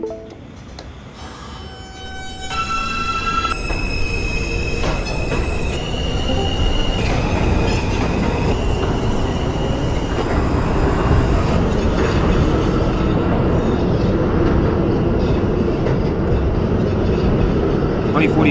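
An R160A subway train on the R line in openBVE, the train simulator, accelerates away with rising stepped motor whine, then settles into a loud continuous rumble of wheels and squealing on rails, with a voice speaking over it.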